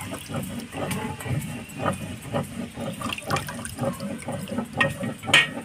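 Rohu fish being rinsed under water, with splashing and trickling in uneven bursts, close by and fairly loud with no talking.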